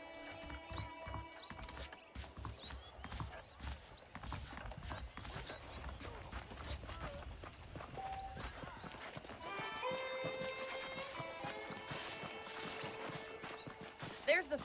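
Horse hooves clip-clop steadily in Red Dead Redemption as a ride gets going, with occasional whinnies and game music over a bed of character dialogue.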